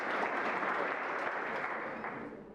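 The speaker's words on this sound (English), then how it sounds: "Round of applause, please." Audience applause at an organic food and farming congress, a dense, steady wash of many hands clapping at once that holds strong throughout and eases off slightly near the end.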